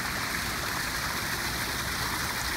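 A small waterfall feature in a memorial garden at a cathedral cemetery gives a constant, even rush of splashing water, close and unbroken throughout.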